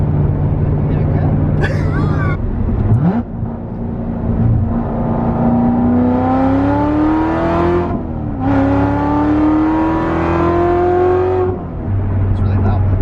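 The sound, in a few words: Corvette Z06 engine revving loudly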